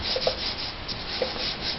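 Sanding body putty on a 2000 Chevrolet Suburban during the last step before paint, a steady close-up scratchy rubbing that runs without a break, with no talk.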